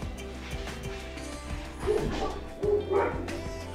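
A few dogs bark and yip, including two next door, in repeated loud bursts near the end over quiet background music.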